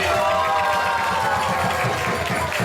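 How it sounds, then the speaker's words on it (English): Applause from a crowd at a temple festival, a dense, steady wash of clapping with a low murmur of voices, loud and sustained for the whole stretch. "let's give Mataji a big round of applause"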